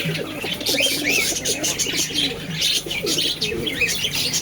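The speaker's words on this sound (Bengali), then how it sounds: "খালি পায়রার ডাক দেখুন, পায়রার ডাক দেখুন খালি" Madrasi pigeons coo and chirp close by in repeated rounded calls, a busy overlapping chorus with a few faint wing flutters and no talking.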